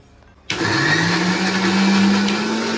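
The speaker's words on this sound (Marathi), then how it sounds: "आता मिक्सरमध्ये आपल्याला बारीक करून घ्यायचं आहे पूर्ण पेस्ट करून घ्यायची" After a brief quiet moment, a mixer grinder switches on and whirs loudly and steadily, its motor whine holding strong as it grinds.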